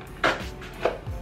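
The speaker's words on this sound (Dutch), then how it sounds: "Oké, ik ga daar een mes voor prikken" A knife jabbing into plastic packaging while baking spice-cake cupcakes, two sharp close stabs with crisp crackling, about half a second apart, and no talk.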